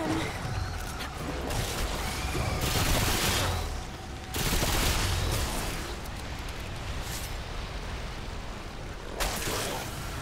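Gunfire in Remnant 2 as creatures swarm out of a hatchery: bursts of rapid shots in several clusters, loud and close, separated by quieter stretches of background game noise.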